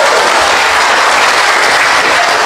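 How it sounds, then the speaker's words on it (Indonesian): Loud, dense applause from a church congregation during a Christmas sermon, sustained clapping filling the whole moment with no voices over it. "Tepuk tangan dulu kasih bapak-bapak."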